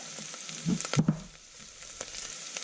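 Soft sizzling of white cumin, cinnamon, peppercorns and spices frying in hot oil, with a few light clinks and stirring sounds close by.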